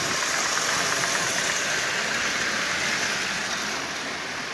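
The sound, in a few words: Lionel model locomotive with electronic E unit running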